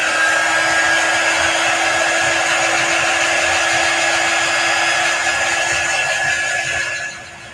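Hair dryer blowing steadily to dry a chalk paste transfer, a loud continuous whir held close to the mic that drops off slightly at the end.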